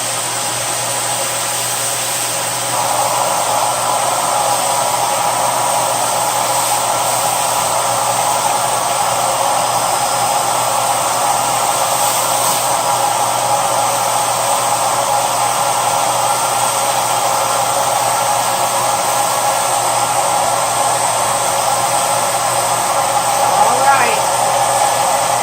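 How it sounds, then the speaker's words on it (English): Steady, loud broadband whoosh of air being pulled out of a vacuum storage bag, holding constant for about twenty-five seconds with no break, alone and close. "Really amazing how small things can get when the air sucks out of them."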